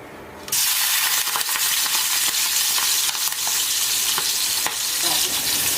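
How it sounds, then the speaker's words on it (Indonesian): Shrimp frying in a hot pan sizzle loudly and steadily from a sharp start, with occasional scraping and stirring clicks of a utensil against the pan, close up and with no talk. "kemudian baru setelah ini kita akan goreng udangnya."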